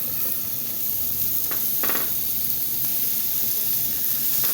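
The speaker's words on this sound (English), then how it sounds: "Now, folks, you want to hear them start to sizzle." Steady frying sizzle of steak in a pan, a continuous broadband hiss with a brief crackling burst partway through, close and fairly loud with no talking.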